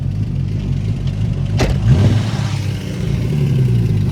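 A Ford car engine with a T5 transmission rumbles loudly and close, its low growl rising briefly in a rev with an audible intake note before settling back.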